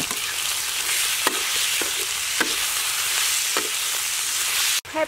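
A utensil stirs pumpkin leaves and beef sizzling in a hot pan, with steady frying hiss and a few distinct scraping strokes, close and clear.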